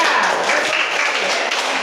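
A classroom of primary school pupils applauds a classmate, a dense, steady wash of clapping hands that fills the short moment at an even loudness with no pauses.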